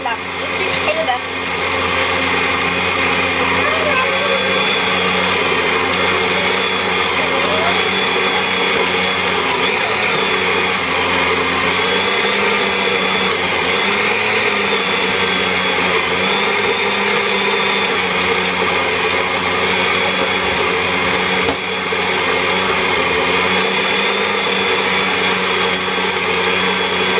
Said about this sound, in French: Je laisse après mélanger 30 à 40 secondes là, le sucre et le beurre.